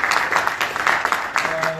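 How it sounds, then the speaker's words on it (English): Seminar audience clapping for a department manager, scattered bursts of applause at moderate distance, mixed with a faint voice in the room. "I need to clap for him"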